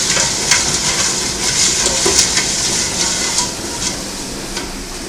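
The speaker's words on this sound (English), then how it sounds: "So we're going to let this come to boiling and we'll be back to add the pears." A pot of cherry mixture for pear cherry chutney heats on the stove, with a continuous bubbling sizzle and scattered soft pops, close and alone without talk.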